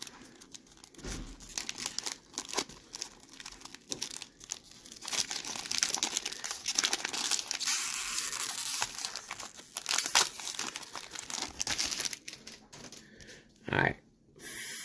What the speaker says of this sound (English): With the scissor, it's weird because I feel like I'm going to be slicing through a card